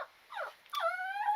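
A whiny dog whimpers indoors during a gel nail polish session, a thin yelp followed by a long rising-then-falling high whine, close and fairly quiet.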